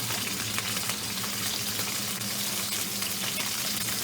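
Pork tenderloin seasoned with paprika and oregano fries in plenty of hot oil in a pan, making a loud, dense, unbroken sizzle heard up close with no talk.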